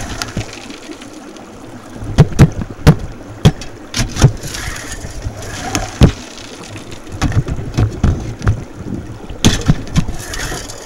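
A small water pump runs outdoors while prospecting for gold at a riverside creek, a steady engine hum with wind noise and rushing water, broken by frequent irregular knocks and splashes close to the microphone.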